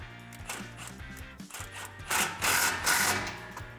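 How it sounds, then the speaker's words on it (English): A ratchet with a 15 mm deep socket tightens an exhaust clamp on a 2019-2020 RAM 1500 5.7L during a Borla Stinger S-Type exhaust install, giving close, steady rasping and clicking strokes that grow louder toward the end, with no talking. "grab your 15 deep socket and tighten this down"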